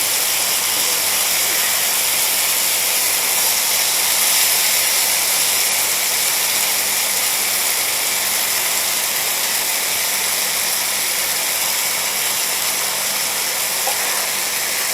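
Carrots sizzling in a pan for spicy Mexican seasoned chicken, a steady, bright hiss of frying that holds evenly throughout with little change, with no one talking over it.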